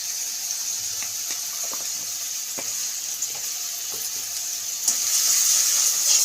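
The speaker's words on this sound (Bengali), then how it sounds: "সরষে বাটাটাকে, ভালো করে একটু কষিয়ে নেব" Mustard paste with salt and turmeric sautés in a pan, giving a steady, soft sizzling hiss with faint scattered ticks, swelling slightly louder near the end.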